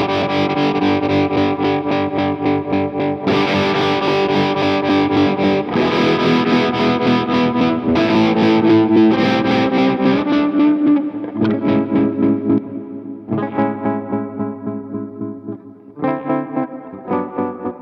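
An electric guitar runs through an Electro-Harmonix Stereo Pulsar tremolo pedal, playing a loud, sustained, distorted chord passage that pulses and throbs, then shifts to shorter choppy chords that stop abruptly, with no talking.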